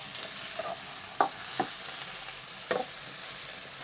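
Okra frying in a pan gives a steady hiss of sizzling oil, broken by several sharp scrapes and clacks as it is stirred at irregular intervals, with no voices.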